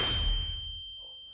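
A bright notification bell dings once with a soft whoosh, then its clear tone rings on and slowly fades in near silence.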